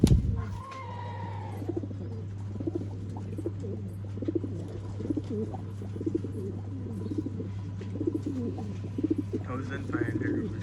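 Pigeons cooing steadily in soft repeated phrases at close range, an old-line breed offered for sale in Bangalore, with a constant low hum throughout and a brief chirp near the end.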